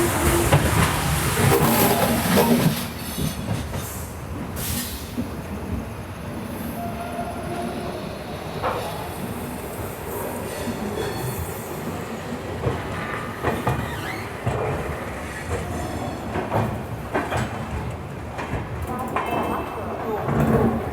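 Mumbai–Hyderabad superfast express train 22732 rumbles along the rails with a continuous, fairly loud roar and rhythmic wheel clatter, a few sharper clanks and squeals, and faint voices in the background.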